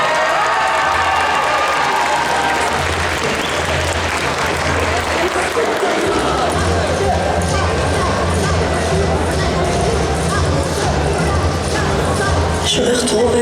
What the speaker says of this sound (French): Je vous invite à l'applaudir très fort, parce que c'est pas évident d'être le dernier à passer sur scène